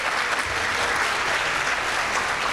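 Steady, dense applause from a crowd at an evening school event for student presenters fills the whole stretch, loud and continuous with no voices breaking through.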